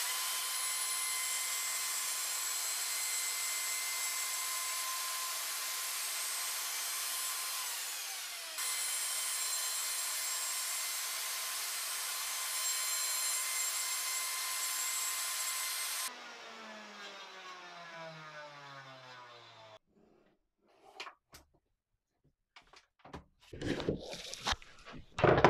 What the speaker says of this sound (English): So we cut that nice rounded edge on there, and we did it in a few passes